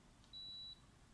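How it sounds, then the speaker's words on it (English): An air conditioner answers a remote button press with one short, thin electronic beep, faint and steady for under half a second over a quiet room hum. "when you press a button, the machine beeps to recognize that that button has been pressed"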